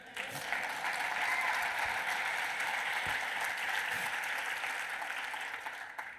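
A keynote audience in a large hall claps in a dense, sustained round of applause that holds steady at a moderate distance before easing off at the end.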